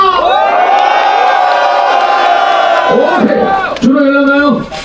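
A large crowd at the start of the Seoul Shinmun half marathon lets out a loud, sustained collective roar, held for several seconds. It breaks briefly, rises again, then tapers off.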